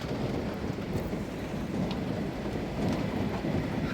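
Thunder rumbles low through steady heavy rain during a rainstorm, a continuous dense wash of rainfall with a deep rolling undertone throughout, no voices.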